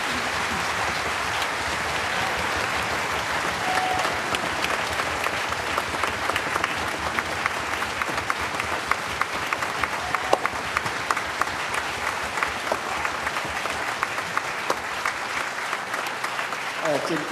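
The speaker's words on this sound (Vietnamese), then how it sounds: "Xin quý vị một tràng pháo tay ca ngợi tự do" A concert hall audience gives sustained applause for an elderly composer as he heads to conduct the orchestra. Dense, even clapping runs for the whole stretch, with a few sharper individual claps and faint cheers.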